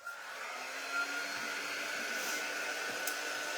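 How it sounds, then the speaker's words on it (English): A hair dryer blows to dry paint on a craft tray, a steady close whooshing roar with a faint whine that holds level throughout, without voices. "I'm going to dry these with the dryer and then put some gold on it."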